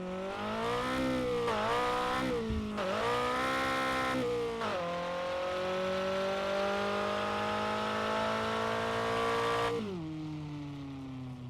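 A race car engine revs hard and accelerates in first gear, loud and close, its pitch climbing in several rising sweeps with brief dips between, then holding a steady high whine before dropping off at the end.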